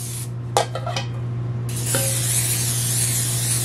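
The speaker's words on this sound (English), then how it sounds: "I'm gonna spray my pans on the bottom first" Two short bursts of cooking spray hiss early on as cake pans are greased, followed by a longer, steady broadband hiss of spraying over a constant low hum.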